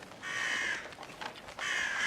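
Crow cawing as an intruder alarm in the video game Atomfall, two harsh drawn-out caws with a short gap between them, loud and close, with no talk.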